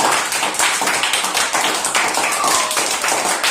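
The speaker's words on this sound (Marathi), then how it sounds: "सगळ्यांसाठी एकदा जोरदार टाळ्या होऊन जाऊ द्या" Students in a classroom break into loud, steady applause after a hands-on weighing and measuring lesson, dense clapping filling the whole stretch with no talk over it.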